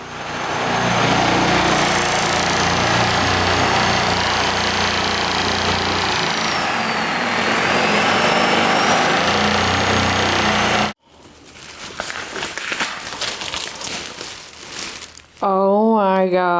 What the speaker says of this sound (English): there's my poor husband drilling the hole